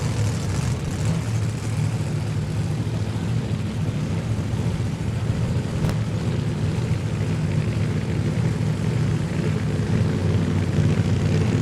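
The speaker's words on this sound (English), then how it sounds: "Both drivers using methanol-fueled supercharged Hemis." Methanol-fueled supercharged Hemi funny car engines at a drag strip during Friday night qualifying: a constant loud, distant-sounding engine roar with a heavy low rumble, sustained without a break.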